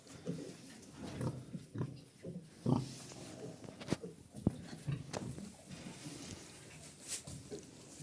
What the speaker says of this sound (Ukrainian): Прийшов давати води свинкам та он п'є